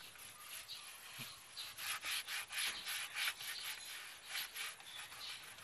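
A car's cracked leather seat is scrubbed with leather cleaner, a close, quiet, rhythmic rubbing of repeated brisk strokes that swell and fade in bursts.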